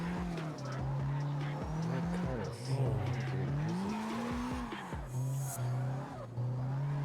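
A car drifting in a driving video game, the engine droning and revving up and down while tires squeal repeatedly through long slides, steady and fairly quiet throughout.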